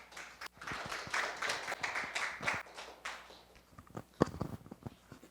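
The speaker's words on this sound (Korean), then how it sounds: "나오실 때 큰 박수 부탁드립니다." Sparse, fairly faint applause from a modest indoor audience at a Korean peace and unification forum in Seongnam, with scattered individual claps rising and thinning out.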